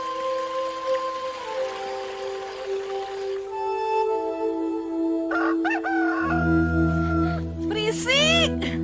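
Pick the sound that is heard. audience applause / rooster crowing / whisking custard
rooster crowing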